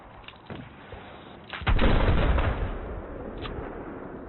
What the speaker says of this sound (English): This is the reload animation of the Unica 6 in Battlefield 4.